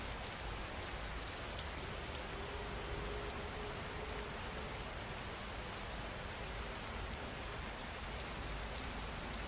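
Steady rain falls without a break, forming a dense, even wash of drops on surfaces with no voices and no change in level.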